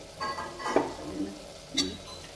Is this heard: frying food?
yes